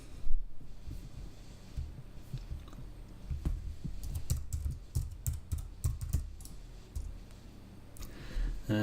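A web address is typed on a computer keyboard: a close stream of quick key clicks in uneven bursts, with heavier taps mixed in, and no voice.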